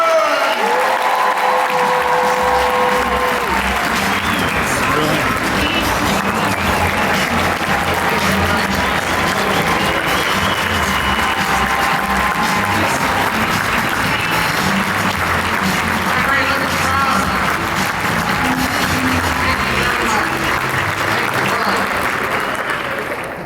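A large conference audience gives sustained, loud applause for Marriott's president and CEO, Arnie Sorensen, a dense unbroken roar of clapping with some cheers that holds for over twenty seconds before starting to fade.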